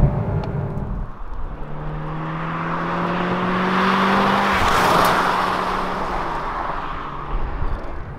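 A Kia K5 hybrid with a 2.0-liter engine paired to an electric motor drives past, a loud, smooth whir that swells and rises in pitch toward the middle and then fades, with no talking.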